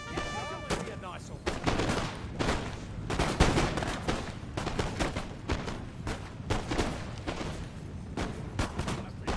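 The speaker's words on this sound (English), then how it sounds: "They don't shoot each other in the back, but they're shooting over each other." Musket volleys crackle across a Napoleon: Total War battlefield, with dense, overlapping rifle shots rolling in ragged waves at a moderate distance for the whole stretch.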